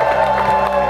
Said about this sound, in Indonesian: Kamu itu terdakwa, kenapa tepuk tangan terus?